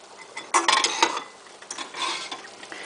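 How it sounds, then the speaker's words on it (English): A pan is set on a stovetop with a couple of sharp metallic clanks and scrapes, followed by lighter rattling and shuffling of cookware, close by and moderately loud. "Now, we're going to take a pan on the stove."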